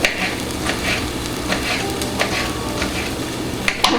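Steady crackling sizzle of hash browns frying in a pan, with occasional stirring clicks, close and continuous.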